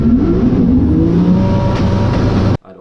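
A Nissan S14 drift car at a drift event in Germany roars loudly through a drift run, engine note sustained and strained before cutting off abruptly near the end.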